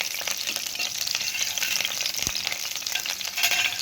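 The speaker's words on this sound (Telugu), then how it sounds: "సో పచ్చిమిరపకాయలు వేసేసుకోవాలి. వేయించున్నాను కదా." Green chillies fry in a pan with a continuous close crackling sizzle and occasional stirring sounds, fairly loud and steady throughout, with no talking.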